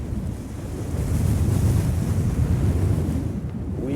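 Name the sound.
strong wind gusts on a cliff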